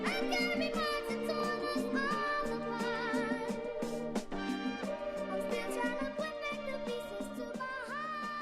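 A plain 70s soul record sample for a beat outro plays quietly on its own, dense with warm chords, melody and light percussion in a continuous groove.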